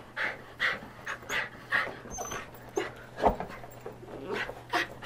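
A dog pants in quick, rhythmic bursts, close by, with a few soft whimpers mixed in and no talking.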